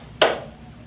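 Claps from a classroom clapping ice-breaker game merge into one sharp close burst, followed by a quiet room.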